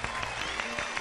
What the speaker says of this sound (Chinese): 来，我们为自己鼓鼓掌